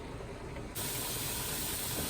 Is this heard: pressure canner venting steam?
yes